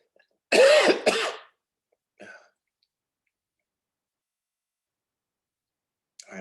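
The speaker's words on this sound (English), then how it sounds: "I just had a coughing spell" Several harsh coughs and a throat clearing burst out close and loud in quick succession, followed by a short, fainter clearing and then near silence, broken only by a brief rasp at the end.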